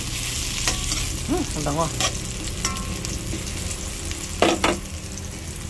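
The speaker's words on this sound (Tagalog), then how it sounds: "Yan, sige, gisa lang." Chicken sautéing in a pan for chicken with peas, a steady sizzle with utensil scrapes and stirring knocks, while a voice speaks briefly over it.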